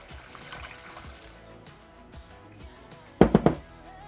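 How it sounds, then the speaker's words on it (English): A cup of water is poured into a freezer bag in a kitchen, with a brief close burst of splashing and gurgling after a few seconds of quiet handling noise. "I'm going to put a cup of water."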